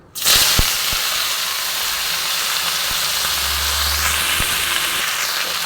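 Red amaranth greens hitting a hot pan give a sudden loud hiss that settles into a steady, bright sizzle with steam, joined by a few light clicks and knocks, no talking.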